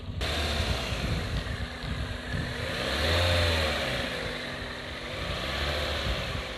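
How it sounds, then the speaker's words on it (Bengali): A 2008 Toyota Probox with a 1500cc octane engine runs steadily nearby, a continuous mid-pitched engine drone that swells slightly in revs midway before settling again, with no talk. "আমি যদি আপনাদেরকে একটু ইঞ্জিনের সাউন্ড শোনাই"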